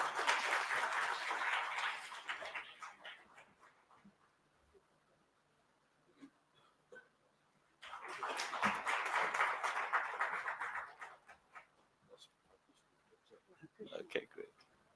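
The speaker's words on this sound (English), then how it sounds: "A round of applause, please." Audience applause at a finance summit, two bursts of steady clapping from a seated crowd, moderately distant, separated by a quiet pause with scattered claps and a brief voice.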